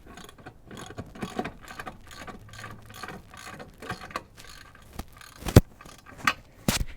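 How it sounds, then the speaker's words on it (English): Hand ratchet wrench starting a ball joint nut on a 1992-2000 GM 4WD K truck, close up, with a rapid series of clicking pawl ticks, some brief pauses, and a few sharper metallic clacks toward the end. "I'm going to get it started just with a regular ratchet wrench."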